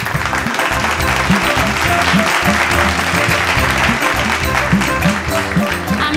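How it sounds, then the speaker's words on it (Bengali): Audience applause on a stage show as a singer, Sharmila, is invited up: steady dense clapping throughout, with a strong rhythmic low-pitched music track pulsing underneath the whole time. "একটা হাততালি হোক।"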